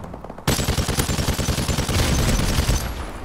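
A near-recoilless automatic gun in a video game fires a sustained rapid burst, loud and close. The burst starts abruptly and rattles on without pause to the end.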